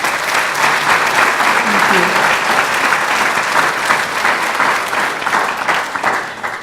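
A keynote audience breaks into sustained applause after a speaker's line by Dr Gloria Wilder: steady, dense clapping from a large crowd that holds evenly for several seconds and tapers slightly at the end.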